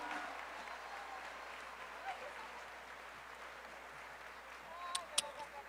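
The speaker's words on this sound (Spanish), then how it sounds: "fuerte el aplauso para Eduardo Verástegui" Audience applause fills a live rosary prayer gathering in Colombia, a steady, fairly distant wash of clapping that continues throughout, with a few sharper claps and brief voices near the end.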